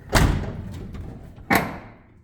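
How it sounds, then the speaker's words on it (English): An old car's door is slammed twice without latching, two sharp, hollow metallic thuds about a second and a half apart, close and loud with brief rattling decay. "Door does not close."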